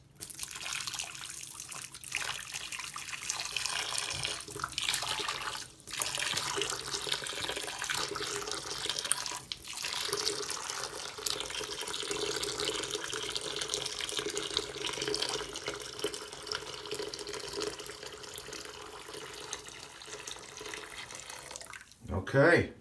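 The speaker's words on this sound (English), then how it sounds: "Have some hot water in this pot. Sorry, one-handed. I'm going to slowly just pour it in." Hot water slowly poured from a pot into a clogged drain, a long steady splashing and gurgling stream lasting over twenty seconds, with a person talking over parts of it and a clunk near the end.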